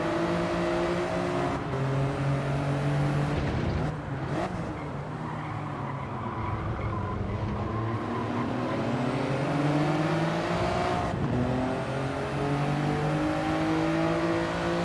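Race car engines roar in Gran Turismo 7, a steady loud drone with rising and falling gear pitches as several cars run close together, and brief shifts and dips in the engine note.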